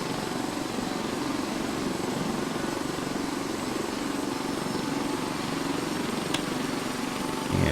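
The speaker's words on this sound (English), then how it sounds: "it looks like our helicopter's ready to roll" A helicopter idling in a flight simulator at Bilbao, its steady rotor and engine drone holding constant throughout, with no breaks.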